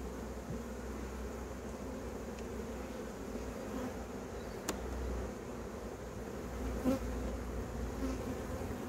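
Honeybees hum steadily around an opened hive with its frames lifted out, a dense, even drone close up that carries on without pause and has no voices over it.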